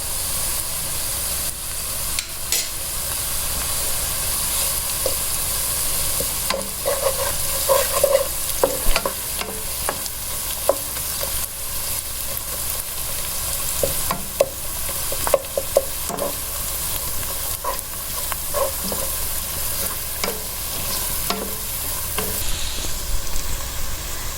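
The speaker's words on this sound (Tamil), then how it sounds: "இது நல்லா கோல்டன் ப்ரௌன் வர மாதிரி சாட்டே பண்ணி எடுத்துக்கோங்க" Chicken drumsticks sautéing in hot oil in a pan until golden brown, a continuous bright sizzle and hiss with scattered stirring clatters and scrapes, close and steady, no talk.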